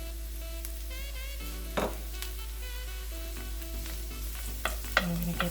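Onions sauté in a pan, stirred with a wooden spoon, giving a soft steady sizzle with occasional scrapes and light clinks of the spoon, quiet and close by.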